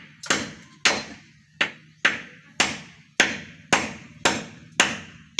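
Nine sharp hammer blows drive a nail into hard cement at a steady pace, each a loud, close metallic knock with a short ringing decay.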